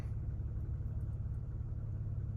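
A Toyota car engine runs steadily just after starting, a continuous close low rumble with no voices; the gas canister EVAP solenoid valve was newly replaced after a no-start following refueling.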